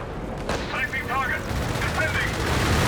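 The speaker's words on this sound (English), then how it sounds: "He's bringing in this strafe." An air strafe in a Company of Heroes 3 match lands as a dense burst of rapid gunfire and booming impacts, loud and close, followed by whistling and rumbling battle noise.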